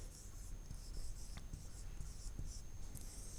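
Chalk writing an equation on a classroom board: soft, scattered scratching strokes under a steady background hiss, with no voice.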